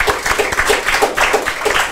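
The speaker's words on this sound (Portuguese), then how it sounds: "Queria dar uma salva de palmas para o Marcelo" An audience at a medical conference on coronary revascularization claps in a dense, close, steady round of applause that holds at an even level throughout.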